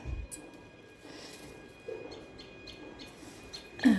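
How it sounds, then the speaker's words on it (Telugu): A small bird sings in the early morning with faint, scattered chirps and short calls at a distance, repeating irregularly over a quiet background with a thin steady hum. "చిట్టి పిట్ట వచ్చింది ఎంత చక్కగా రాగాలు తీస్తాను చూడండి"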